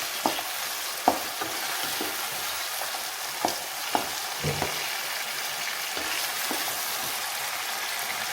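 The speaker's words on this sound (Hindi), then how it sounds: "और ये सारा मसाला मैं इसके अंदर भून लूँगी" Spices roasting in a hot pan in a home kitchen give a steady crackling sizzle, broken by sharp clicks and taps of a spoon stirring against the pan, with no one speaking.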